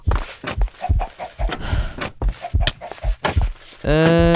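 A chicken in a desert survival video game clucks in quick bursts among footsteps and thunks, ending in a loud, sustained squawk at close range.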